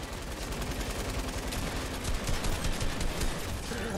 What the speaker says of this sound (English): Did non-stop shooting.